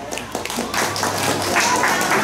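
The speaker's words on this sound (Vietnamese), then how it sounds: "Xin một dành một tràng pháo tay to thật lớn để chào đón lời phát biểu vị đại diện cho gia đình nhà trai." Wedding guests at a Vietnamese bride's send-off ceremony applauding to welcome the groom's family representative, a dense, sustained patter of clapping from a crowd with faint voices beneath.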